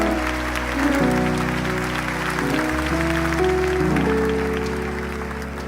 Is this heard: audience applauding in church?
yes